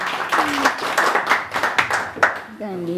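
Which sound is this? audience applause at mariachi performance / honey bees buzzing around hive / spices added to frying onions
audience applause at mariachi performance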